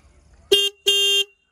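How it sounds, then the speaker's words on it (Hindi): Single horn of a Bajaj Pulsar N160 motorcycle honked twice, two short, loud, flat tones close by, the second held slightly longer. "आवाज़ वगैरह तो हॉर्न का भी ठीक ही है।"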